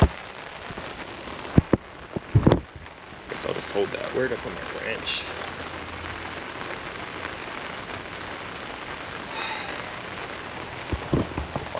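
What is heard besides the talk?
rain falling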